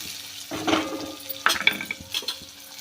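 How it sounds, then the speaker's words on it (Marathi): Chopped onion being stirred and sautéed in a pan for pithla, a Maharashtrian gram-flour dish, with scraping spoon strokes and clinks over a soft sizzle, close and fairly loud, no talk. "कांदा थोडासा गुलाबी रंग येईपर्यंत आपण परतून घेऊया"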